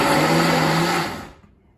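A kitchen blender whirs loudly at a steady high pitch, then spins down and stops within about a second.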